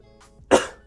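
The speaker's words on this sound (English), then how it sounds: "Yeah, I still got a cough" A single short, close cough from a man who has been ill, a sharp burst preceded by a faint throat sound, with no talk.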